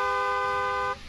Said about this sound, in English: we get locals that'll drive past, honk their horns and stuff.